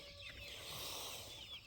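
A large flock of young chickens raised in brooders makes a dense, continuous wash of clucking and chirping, faint and steady throughout.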